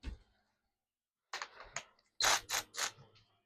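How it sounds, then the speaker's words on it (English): A rethreader is run over trailer wheel studs, producing short, close bursts of ratcheting clicks: one brief burst, a pause, then a cluster of rattles and three sharp, louder grinding clicks in quick succession. "I'm going to run my rethreader on the studs and on the lug nuts."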